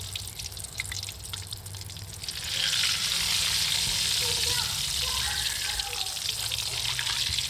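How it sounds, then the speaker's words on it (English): Pork belly for lechon kawali drops into hot oil and deep fries, a faint hiss swelling after a couple of seconds into a loud, dense, steady crackling roar that carries on without pause. "So it's deep fry right now."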